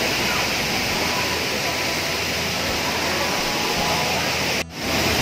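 A two-branched waterfall at Suban Curup, Rejang Lebong, Bengkulu, roars as a dense, continuous broadband rush close by, steady throughout apart from one brief dip near the end.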